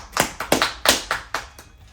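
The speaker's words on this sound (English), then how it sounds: "I'll clap it up" Hands clapping six or seven times in an irregular, unhurried rhythm, close and crisp with short gaps between claps, no talk over them.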